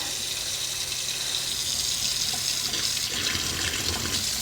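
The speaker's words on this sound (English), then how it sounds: "I'm gonna run some hot water." Hot water runs steadily from a household sink faucet during cleaning, a constant hissing splash that stays even throughout with no voices.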